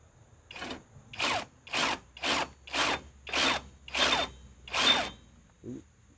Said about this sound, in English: Get the socket on the bolt head just right and tighten this thing up.